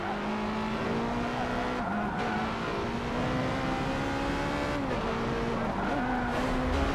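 Several racing cars roar through a track in Austria in an Xbox One X racing game, with steady loud engine drones whose pitch rises and dips through gear changes and corners, no talk over them.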